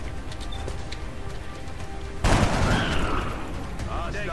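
Soldiers fire weapons in the video game XCOM Long War, a sudden loud burst of gunfire that breaks in after a quieter stretch and rings on with lingering reports.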